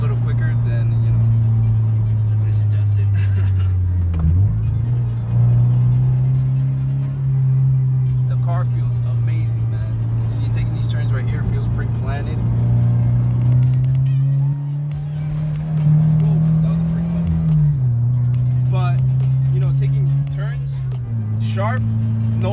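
Steady engine drone of a lowered car on Megan Racing springs taking a roundabout, heard from the cabin with a constant low hum that rises and dips slightly as it moves through the turn.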